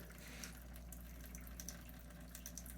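Collected rainwater, pumped into an off-grid farm homestead, runs from a faucet in a faint, steady stream with light splashing and scattered drips, no voices.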